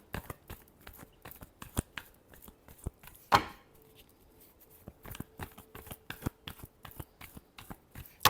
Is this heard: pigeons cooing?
no